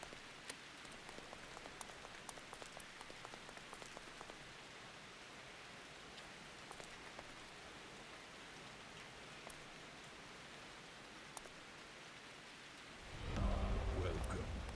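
Rain in the Stormworks game patters faintly and evenly with scattered droplet ticks, then a louder, fuller burst of rumbling storm noise swells up at the end; no talking.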